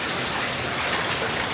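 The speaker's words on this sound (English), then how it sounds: "And it started raining" Steady, dense hiss of rain falling, close and continuous with no pauses, and no voices.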